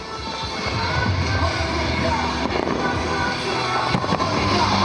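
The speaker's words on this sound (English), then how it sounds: "the huge explosions that lit up the sky were wonderful" Fireworks rockets burst in the sky at an outdoor multimedia show in strong wind, loud crackling explosions piling up densely in a continuous barrage.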